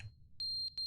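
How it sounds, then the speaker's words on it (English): A video game smoke detector alarm beeps in sharp, piercing, high-pitched pulses, two long tones and a short one, loud against an otherwise quiet background. "Oh, I can't turn off the smoke detector."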